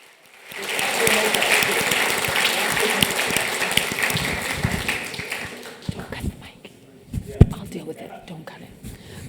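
Audience applause at a Toronto mayoral debate, a sustained wash of clapping that rises quickly, holds steady, then thins out into scattered claps and crowd murmur.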